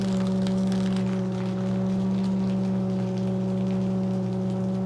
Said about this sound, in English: Now let me shred a couple of pieces of paper.